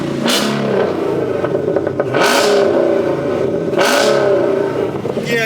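A Chrysler 300 SRT with straight-pipe exhaust revs loudly up close, three sharp throttle blips rising over a rough, rumbling idle, with no talking over it.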